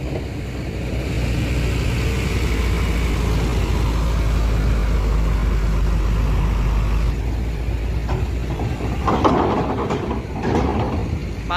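A new Legacy SR2 bus drives aboard a ferry, its engine a loud steady low rumble mixed with mechanical clanking and rattling from the ramp, with a few sharper knocks near the end and no speech.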